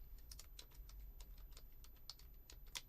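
Fingers typing on a computer keyboard in an art studio, quick irregular clicks of keys close by and fairly soft, with no speech.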